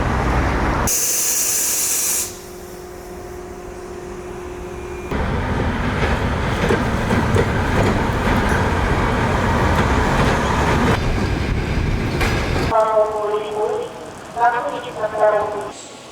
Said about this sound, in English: We are now at the train station